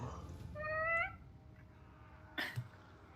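A kitten gives one clear, rising meow near the start, followed by quiet room tone and a brief soft noise burst toward the end.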